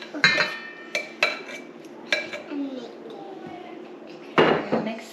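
Cranberry orange muffin batter stirred in a bowl with a utensil, giving several sharp scrapes and clinks against the bowl's side at irregular intervals, close by, with soft background noise between strokes.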